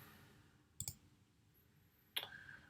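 A computer mouse gives two faint, crisp clicks about a second and a half apart, close and isolated against quiet room tone, with no talking.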